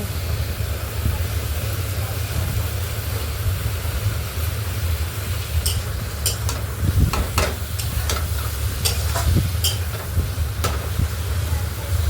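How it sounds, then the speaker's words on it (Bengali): Tomatoes fry in a pan for a fish and potato curry, giving a steady close sizzle broken by sharp scraping clicks of a spatula stirring. "একটু ভালো করে ভেজে নিয়ে নেব।"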